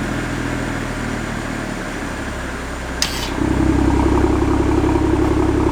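Exhaust valves open on a 2022 BMW X3 M40i fitted with a CSZ exhaust, the idle rumble stepping up to a louder, deeper drone after a brief click midway.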